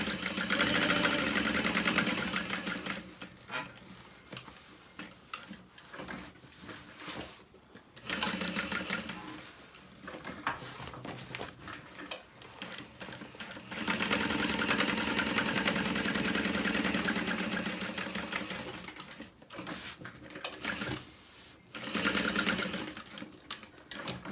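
Sewing machine back stitching around the outer corner of a handbag, running in loud steady bursts of rapid mechanical stitching separated by brief pauses, alone throughout.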